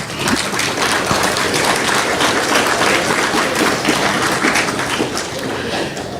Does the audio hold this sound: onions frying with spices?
no